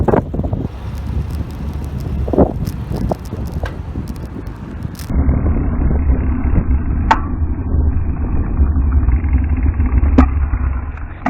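An old motorbike engine runs steadily and loudly close to the microphone, with wind buffeting and a shift in tone partway through.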